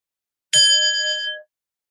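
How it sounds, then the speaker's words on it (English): A single meditation bell rings out alone in silence, one clear bright strike with a sustained ringing tone that fades over about a second. "I'm going to ring a bell"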